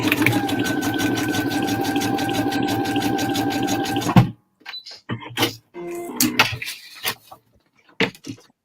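A home sewing machine runs steadily for about four seconds with a fast, even mechanical whir and rapid stitching pulse, close and loud, then stops, leaving scattered clicks and handling noises.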